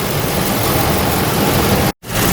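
A Nissan Titan or Armada engine idles while parked, heard as a loud, steady broadband roar with a momentary dropout near the end.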